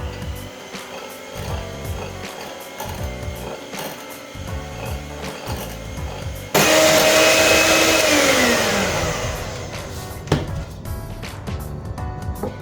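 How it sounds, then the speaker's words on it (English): Hand whisk beating sponge cake mixture in a bowl, a steady rapid scraping and clattering that grows louder and brighter midway, close up with no talking. "Then using the same hand whisk, I beat this."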